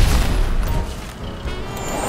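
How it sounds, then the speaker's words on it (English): Firework launcher explosions in a Christmas-themed video game, a loud booming blast at the start followed by crackling, rumbling debris noise that tapers off, no talking. "I'm gonna do it with the firework launcher."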